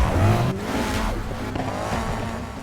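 A tuned race car in Need for Speed Heat revs and drives off at the start of a race, a short loud engine surge with a brief tire squeal, then a steadier drone without talk.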